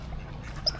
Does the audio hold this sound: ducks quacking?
yes